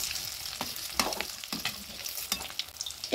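Egg kofta fries in a pan with a steady crackling sizzle, close and clear, punctuated by sharp spatters and light scraping from stirring.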